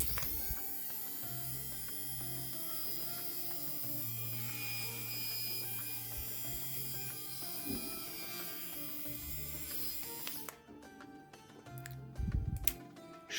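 A small, very lightweight minimalist electric shaver runs with a steady close buzzing hum that stops abruptly near the end, followed by a few handling clicks.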